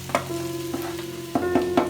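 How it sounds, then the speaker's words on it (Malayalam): Chicken curry ingredients sizzle in oil in a clay pot, with several scraping stirs of a spoon punctuating the steady frying hiss, close and clear with no talking. "ഇങ്ങനെ എണ്ണയിലിട്ടൊന്ന് വഴറ്റുക"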